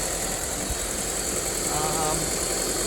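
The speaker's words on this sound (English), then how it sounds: "with the valve cover all back together and the engine running" A 2003 Honda Civic engine idles steadily after a valve cover gasket replacement, with a constant, even hum and rattle throughout. There is no change in pace.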